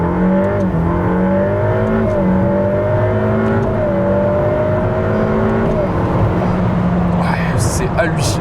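Ferrari F8 Spider engine pulling hard again after braking, a loud continuous rising drone with shifting engine tones, close and sustained, with a voice talking over it.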